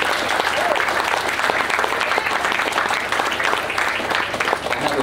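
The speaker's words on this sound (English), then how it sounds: "Let's give Alex a round of applause." A church congregation at a Sunday testimony service breaks into steady, full applause, a continuous crowd of clapping that holds at an even level throughout, with faint voices underneath.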